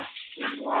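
An aggressive dog lets out a short, snarling bark burst, fairly faint and thin in tone, lasting under a second.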